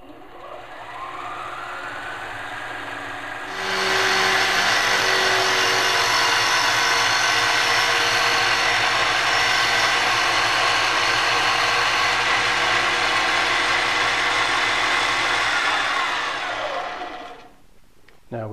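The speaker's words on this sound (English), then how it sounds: "we're going to turn a tenon on the outside" A wood lathe cuts a tenon on the outside of a wooden cube box, a loud, steady scraping whir that starts abruptly, holds for about twelve seconds, then winds down as the machine stops, with no speech.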